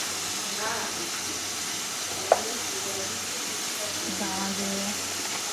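Potatoes sauté in a pan for a spiced potato sabji, giving a steady soft sizzle with one sharp tap partway through while a voice talks over it.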